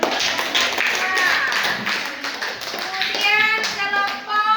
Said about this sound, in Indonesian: kita kasih tepuk tangan untuk kita